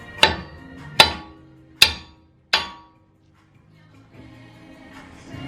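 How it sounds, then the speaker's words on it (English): Four heavy hammer blows hit a Toyota Tacoma wheel stud to drive it out of the hub, each a sharp metallic clang that rings and decays, spaced under a second apart, then quiet workshop background. "I'm gonna pop it out with a big hammer"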